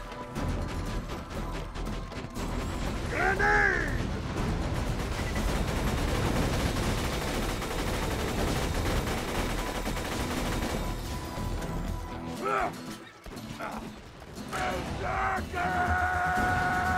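Borderlands 2 shooter gunfire, sustained bursts of rapid shots and crashes running loud throughout, with yelling voices cutting in and a brief lull near the end before the firing resumes.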